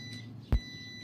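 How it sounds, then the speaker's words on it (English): A multimeter on continuity mode gives one short, sharp electronic beep as its probes touch the input and output of a healthy contactor, clear and close in a quiet room. "the multimeter should beep"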